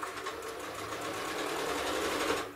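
A sewing machine stitches a quilt along a ruler in machine quilting, a fast steady mechanical whir that runs continuously and close for a couple of seconds before stopping.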